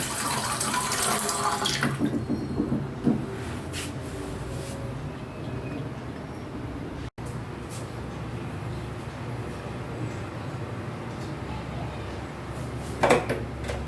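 Water running steadily from a kitchen tap into a container, a continuous close splashing flow that eases off partway through, with a brief clatter near the end, poured to boil for a thyme remedy for colds and cough.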